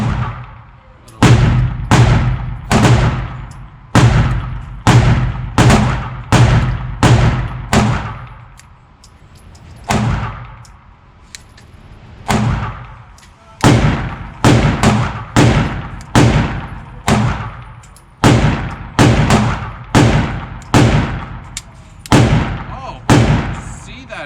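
Rapid strings of loud 9mm gunshots from an HK P30SK compact pistol fired at 10 yards, sharp cracks coming in quick bursts of several shots with short pauses between groups.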